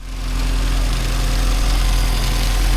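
A classic Mini with a 998 engine and a freshly rebuilt HS2 carburetor, not yet tuned, idles close up with a steady, deep throbbing rumble and vibration, running continuously without any speech.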